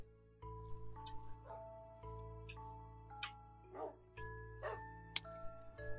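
A dog or wolf in a video game barks and whimpers in short yips over a droning, looping game music bed, several separate bursts spread across the passage.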